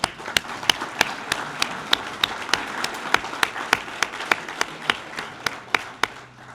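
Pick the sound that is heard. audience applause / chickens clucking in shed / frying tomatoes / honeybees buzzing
audience applause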